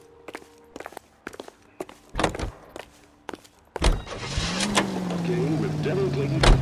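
A car in the PC game Detective King starts up with a thunk, then its engine hums steadily for a few seconds after footsteps and door sounds, with a faint voice nearby.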